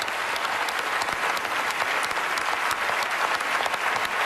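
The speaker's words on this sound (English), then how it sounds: "Give her a big round of applause as we send you off" A studio audience applauds a departing contestant on a singing competition show, steady and dense clapping that stays at a constant level throughout, with no one talking over it.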